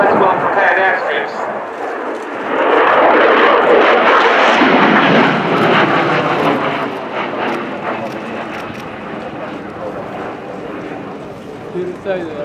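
A Polish Air Force MiG-29 jet in a flying display roars loudly, its engine noise swelling and then fading as it passes, heard beneath continuous commentary from a man.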